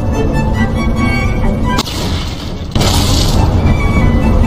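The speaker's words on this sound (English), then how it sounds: "This results in detonation." A detonation effect booms out as a loud, close explosion that cuts sharply through a steady rumble, followed moments later by a second heavy blast.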